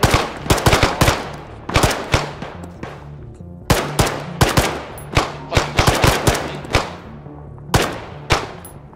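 Rapid bursts of machine gun fire rattle through a video game firefight, coming in repeated loud volleys of sharp cracks with short pauses between, no talk over them.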